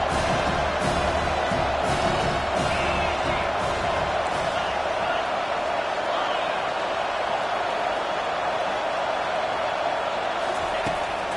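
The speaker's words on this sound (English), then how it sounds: "Here comes this home crowd as the defense tries to get off the field on third down." A home crowd at a college football game roars steadily as the defense faces third down, a loud, dense and unbroken wall of noise from the stands throughout.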